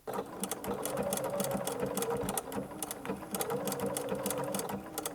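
A sewing machine stitching appliqué along a fabric edge for a tablecloth, its needle running in a fast, steady mechanical rhythm close by with a soft motor whir, pausing briefly before continuing.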